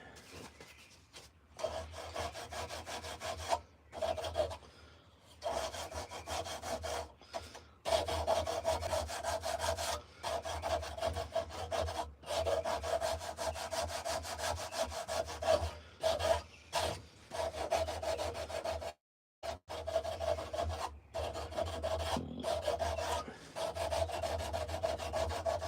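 Wooden spoon being carved by hand in a workshop, with steady rasping, scraping strokes of a blade or rasp on wood repeating in quick rhythm, close and fairly loud, broken by brief pauses.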